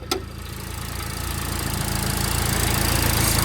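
A turbocharged 2004 Flame Red Dodge Neon SRT-4 with a stock block, big Garrett turbo, Tial wastegate and large front-mount intercooler runs with a steady, close engine drone that slowly builds in loudness after a brief knock at the start.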